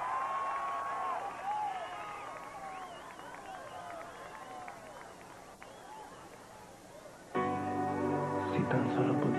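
A festival crowd cheers and whistles welcoming the singer, a broad roar of voices and shouts at moderate distance that swells near the end as music starts up.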